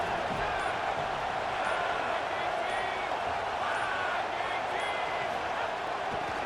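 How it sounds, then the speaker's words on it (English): A stadium crowd roars to back the defense on third down in the NCAA Football 27 video game: a dense, steady wall of cheering and yelling that stays loud and unbroken the whole time, with scattered whistles and shouts rising out of it. "Decibels rising as the crowd gets behind this defense on 3rd down."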